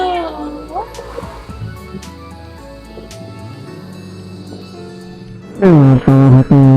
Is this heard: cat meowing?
yes